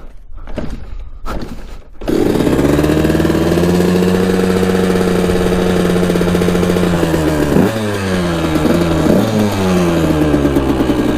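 An abandoned dirt bike's engine sputters through a few short bursts, then catches with the choke on and idles loudly and steadily up close, with a couple of uneven rev blips partway through.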